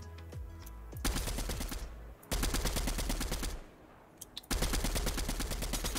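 Three long bursts of rapid automatic gunfire in Fortnite rattle loudly, separated by short pauses with a few scattered single shots in between.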